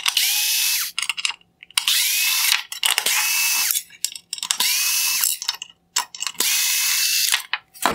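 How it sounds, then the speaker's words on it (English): A powered driver backs out T10 Torx screws from a 2019-2021 Porsche Cayenne LED headlight, giving a close, loud whirring buzz in four long bursts split by brief clicks and pauses. "Next, I'm going to remove the T10 Torx screws holding in the LED drive units."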